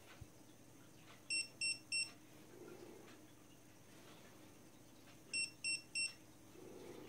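An electronic dog fence collar from a Dogtrace D-fence 1001 system gives two bursts of three short, bright beeps each, signalling its shock level, over a faint quiet room background.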